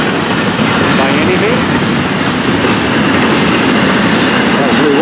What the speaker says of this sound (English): As we watch the hot train go on by.